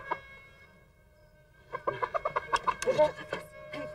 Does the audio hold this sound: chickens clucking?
yes